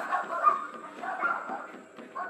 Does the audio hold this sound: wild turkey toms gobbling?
no